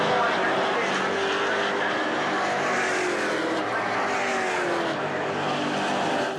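Toyota Camry stock cars of the NASCAR Whelen Euro Series race at Brands Hatch, engines roaring loud and steady in a dense, continuous pack with a faint voice underneath.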